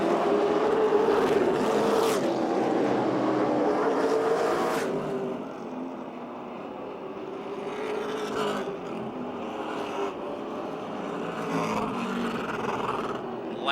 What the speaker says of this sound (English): Joe Moose in the 83 car will figure into this battle and forces Wiltrout on the brakes.